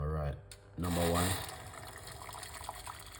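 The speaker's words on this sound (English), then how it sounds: "We're gonna put 1 cup of hot water into the pot." Hot water, one cup, is poured into a pot to brew a bedtime tea, a close, steady splashing pour that follows a short stretch of voice and then trails off into a quieter trickle.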